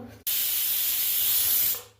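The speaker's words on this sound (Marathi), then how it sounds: "इथे माझी कुकरची शिट्टी झालेली आहे" Pressure cooker with rice releasing steam through its whistle, a sudden loud, close hiss that holds steady for about one and a half seconds, then tapers off.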